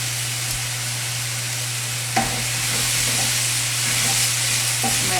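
Cranberries cook in a pan with a steady, fairly loud sizzle and hiss, broken by a few stirring scrapes and small pops, with no voices.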